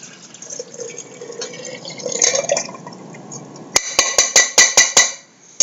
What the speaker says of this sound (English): I'm going to pour it right on in.